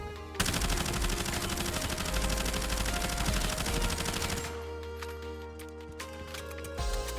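Submachine gun from Call of Duty: Black Ops Cold War firing in Warzone, a loud, dense continuous burst lasting about four seconds, then thinning into a few scattered shots and echoing tails.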